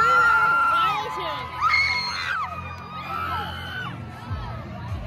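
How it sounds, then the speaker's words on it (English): Concert crowd at a tour show, a large audience screaming and cheering continuously, with high shrieks and whoops rising over a dense roar of voices in a big venue. "Everyone was screaming"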